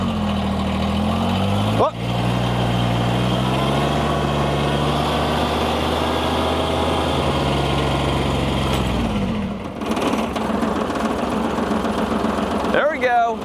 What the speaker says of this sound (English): when you put the key in the ignition here and you turn it over, she starts